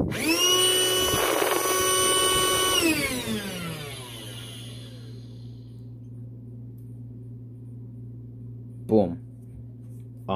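A P747 electric air pump runs in inflate mode with a steady, strong motor whine that cuts off after about three seconds, leaving a low mechanical hum and a brief click near the end.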